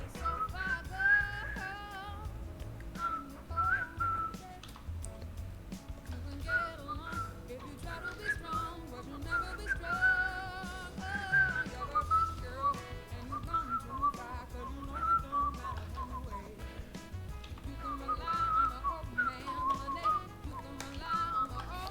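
A person whistles along to a song during a painting stream, a steady melodic whistle running continuously over faint background music for the whole stretch.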